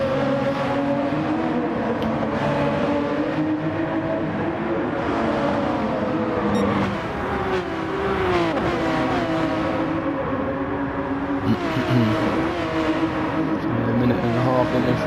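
Sim race cars in a racing video game drone and whine continuously, engine pitches rising and falling as they shift and jostle for position, while a commentator talks over the top throughout.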